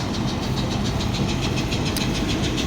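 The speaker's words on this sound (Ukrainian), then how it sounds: "Сушечка працює все нормально." A grain dryer drying soybeans runs steadily at a farm, a dense continuous mechanical roar with a faint rhythmic pulse, loud and close with no talking.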